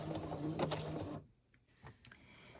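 A sewing machine runs a couple of quick stitches through layered tea bag paper, a short close mechanical whir that stops abruptly, followed by faint clicks and handling.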